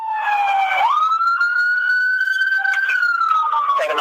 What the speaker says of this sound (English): activated his lights and sirens